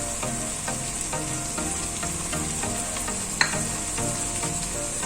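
Tomato and chili powder masala for an egg curry fries in a pan with a steady, continuous sizzle, while occasional soft scraping and stirring sounds come through as the mixture is combined.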